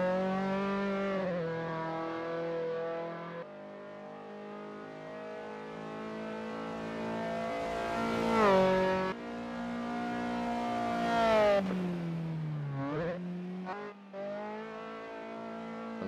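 An Austin Healey Sprite in the Assetto Corsa racing game at Bathurst gives a buzzing, harmonic engine note that climbs and drops through gear changes, loud and continuous with no voices.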